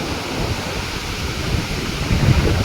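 Water pours through the three opened automatic gates of Radhanagari dam into the river below, a dense, continuous roar with low rumble, heard alone and loud throughout.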